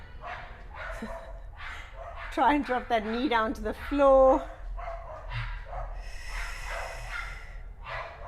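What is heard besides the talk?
dogs barking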